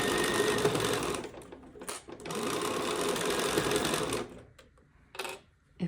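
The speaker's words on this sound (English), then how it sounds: "I will go ahead and start sewing. Stitch, back stitch, all the way down the side with a 1/4 inch seam." A sewing machine stitches a quarter-inch quilt seam with back stitches, a fast whirring buzz running in long stretches, pausing briefly, then stopping with a short final burst.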